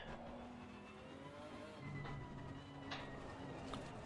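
A Nissan race car in Assetto Corsa Competizione at the Nürburgring GP circuit, engine tone climbing and shifting steadily throughout, with faint tyre and other car noises over a continuous dense background.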